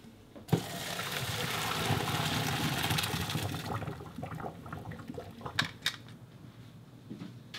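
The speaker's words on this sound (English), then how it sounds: "The pasta is now done. And I'm going to take it out. And I'm going to drain it." Water from cooked pasta pours into a sink in a loud, rushing stream for a few seconds, then eases into scattered drips and splashes.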